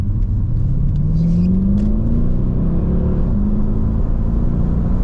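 A 2010 Mercedes E63 AMG engine revving up close, a loud low rumble rising in pitch as it accelerates, then settling into a steady growl.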